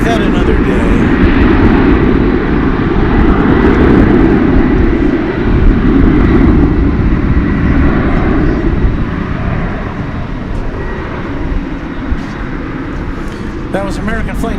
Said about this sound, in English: That was American Flight 969 arriving from Austin, Texas.